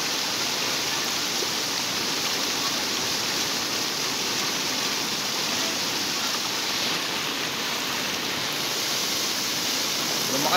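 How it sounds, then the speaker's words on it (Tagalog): Heavy rain from Storm Carina with the southwest monsoon pours steadily on a riverside street corner in Quezon City, a dense, continuous loud hiss of downpour without pause. "Lumakas uli yung ulan"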